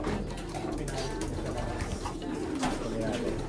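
Pigeons coo softly and repeatedly against a steady background hum, low throaty calls overlapping at close range.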